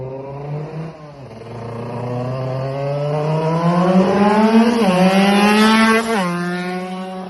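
A tuned Rieju RS2 moped engine revs hard and nasally, climbing in pitch, dipping briefly, then surging again to a sustained high wail before easing off, loud and close.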